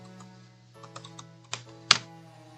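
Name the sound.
loud typing on a computer keyboard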